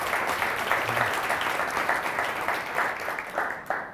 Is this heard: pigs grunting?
no